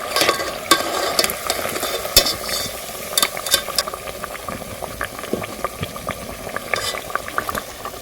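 Sugar and salt pinwheels, a soft fried dough, frying in hot oil: a constant bubbling sizzle scattered with sharp crackles and pops, close and steady throughout with no voices.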